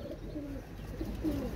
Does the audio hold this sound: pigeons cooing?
yes